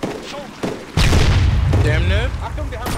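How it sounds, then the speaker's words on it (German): Tank cannon fire in the military game Arma 3 lands as a heavy boom about a second in. A sustained low rumble follows under overlapping voices. "Das ist unsere Kanone hier."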